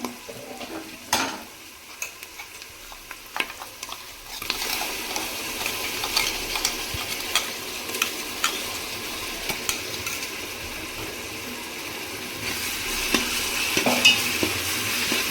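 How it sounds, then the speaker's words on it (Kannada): Ground masala is stirred and fried in a pan with spinach rice ingredients, giving a continuous close sizzle with scattered scraping and clinking of the spoon. The sizzle grows louder partway through, and no one speaks. "ಈಗ ನಾನು ಮಸಾಲ ರುಬ್ಬಿರೋದು ಹಾಕ್ತಾಯಿದ್ದೀನಿ, ಅದನ್ನು ಇದ್ರ ಜೊತೆ ಸ್ವಲ್ಪ"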